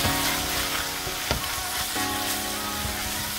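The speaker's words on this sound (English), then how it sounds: "Just give this a quick little mix." Braised lamb shank with stock and a touch of turmeric is stirred in a pot, giving a steady close sizzle and bubbling hiss with a few soft scraping knocks of the spoon.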